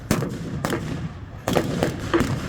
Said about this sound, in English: Getting covering fire from those support units at the back, not only from the large bore but also from the machine guns that are carried on each of those tracked vehicles.